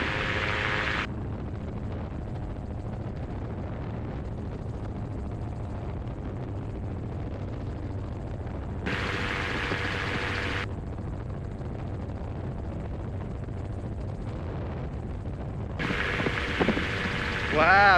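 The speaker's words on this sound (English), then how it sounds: "Wow, good winds." Strong gusty wind buffets a gyroplane in flight during a checkride, heard as broad rushing bursts over the steady drone of the engine and rotor inside the open cockpit.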